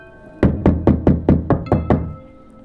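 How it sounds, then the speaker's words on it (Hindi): Seven quick, sharp knocks on a door at night, loud and close in an even, insistent rhythm, then silence. "अचानक बाहर से खटखट की आवाज आती है।"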